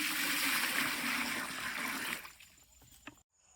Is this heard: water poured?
yes